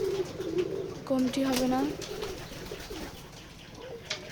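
Pigeons in an open-sided loft at Beti Khola village, Keshabpur, Jessore, give clear, close, drawn-out coos early on, fading to quieter murmurs while someone talks.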